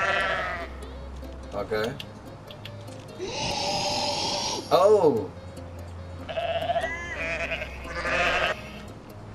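Goats in the video game Goat Simulator let out several loud, wavering bleats in separate bursts while someone talks over the gameplay.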